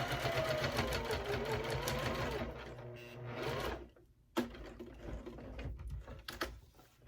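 A home sewing machine stitches through thick corners of a sewing project, a close rapid whirring that runs steadily, then slows into short bursts with pauses and clicks as the needle stops and pivots.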